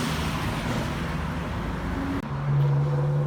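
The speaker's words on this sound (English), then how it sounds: "I'll try to talk when there's no traffic" Road traffic rumbles past near a highway on-ramp on the way to Disney, a continuous loud roar of passing vehicles that briefly drops out and returns with a low engine hum.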